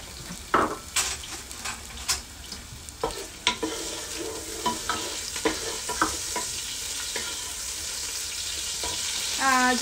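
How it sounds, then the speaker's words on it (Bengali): Prawns, around 200 grams, sizzle in a frying pan while a spatula stirs and taps against the metal in irregular strokes, close and clear over the hiss. "যথারীতি চিংড়ি মাছটা একটু ভেজে নিব।"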